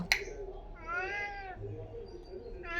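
A cat meows twice in a quiet home, each call drawn out and rising then falling, with a short sharp click at the start and soft background noise between the calls.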